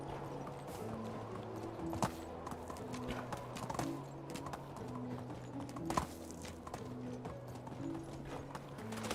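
Horse hooves galloping in the medieval survival game Medieval Dynasty, a fast, regular clip-clop rhythm running steadily throughout with a low repeating musical drone underneath and no talk.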